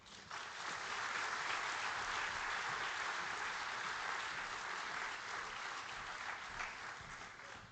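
Audience at an opening ceremony of a financial inclusion policy forum breaks into sustained applause, a dense, even wash of many hands clapping that fades slightly toward the end, fairly quiet overall with no talking.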